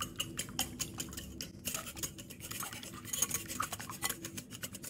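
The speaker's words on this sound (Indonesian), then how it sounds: "Ini telur kita kocok dulu ya." Eggs are whisked in a bowl for a Kembang Goyang snack batter, producing a fast, steady clatter of utensil against bowl with quick rhythmic ticks, close and moderately quiet, with no talk.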